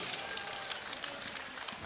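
Audience applause and crowd noise fill a martial arts fight between Mamatkulov Maksat of Kyrgyzstan and Baek Seung-dae of Team Hon, a steady broadband clapping wash with scattered sharper claps throughout.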